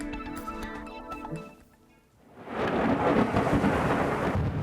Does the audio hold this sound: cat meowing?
no